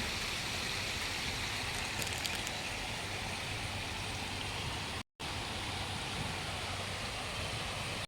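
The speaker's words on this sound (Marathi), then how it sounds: "धबधब्यावर गेल्यावर पण असंच आवाज येता" A steady, loud rush of river water spilling over a small dam, continuous and close.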